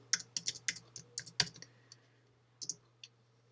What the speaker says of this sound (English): if I now type some random text